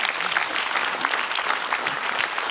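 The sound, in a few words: audience applause for speakers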